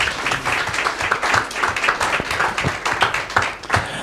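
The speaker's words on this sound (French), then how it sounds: "Franchement, vous l'applaudissez quand même." A studio audience on a French talk show about blogs breaks into applause, dense and fairly loud clapping from many people sustained throughout.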